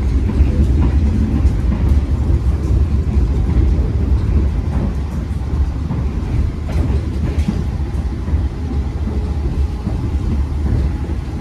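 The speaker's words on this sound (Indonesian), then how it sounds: "Pas lewat wesel 115 km per jam ya ini." A Jaka Tingkir economy train rolls steadily at 115 km/h, a continuous low rumble with faint clacks of wheels crossing track joints and switches.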